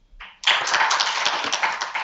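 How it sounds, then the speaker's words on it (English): A crowd applauds Gabby Hartemann after a presentation; brief faint sound, then clapping bursts in sharply and continues as a lively, dense round of many hands. "can we please have one last round of applause for Gabby Hartemann?"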